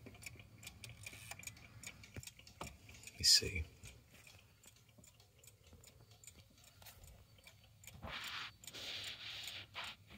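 A wooden chiming clock ticks steadily and faintly at close range, with a brief knock and a short spoken remark partway through.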